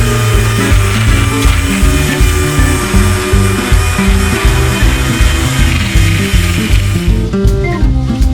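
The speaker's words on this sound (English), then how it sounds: "So I'm actually gonna have to sand them down first, rough it up" A power sander roughs up old paint on bus parts, a loud, steady machine whine with a pulsing rhythm that runs throughout and eases toward the end.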